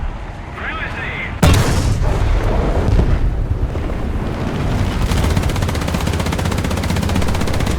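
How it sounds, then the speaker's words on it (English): In War Thunder, a tank's machine gun fires a long burst of rapid, dense rattling right after a heavy boom, with continuous battle noise and someone talking over it. "Got some hits with the machine gun."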